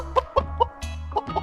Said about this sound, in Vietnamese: Con gà.